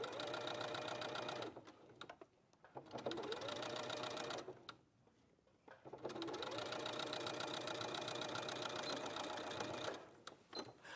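A Brother sewing machine stitches fluffy fur fabric in fast, steady mechanical bursts, loud and close, with two short pauses between runs and no talking.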